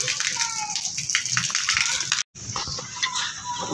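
Heavy monsoon rainwater gushing out through a drainage pipe during a downpour: a steady, close rush of running water with broadband splashing throughout, briefly cut off once, with a person talking over it.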